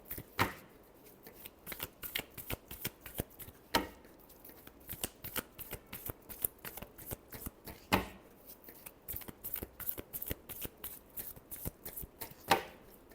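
Tarot cards are shuffled steadily up close, a long run of crisp riffles and slaps. A few louder snaps stand out where the deck is squared or cut, and nobody speaks.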